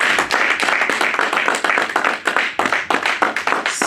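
A church congregation claps together in acclamation of God, a dense, steady roar of many hands filling the space loudly with no talk over it.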